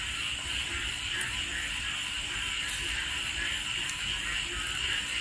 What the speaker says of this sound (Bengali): পুরো ঝিঝি পোকার আওয়াজ।